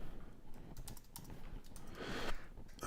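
Keys clatter on a computer keyboard in quick, irregular bursts of close, quiet typing.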